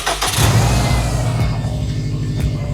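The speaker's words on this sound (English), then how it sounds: "we're going to start the car and let it idle with the heater on full" Subaru EJ engine cranking and catching at the start, then settling into a steady, fairly loud idle close by with the heater running on full, no voices over it.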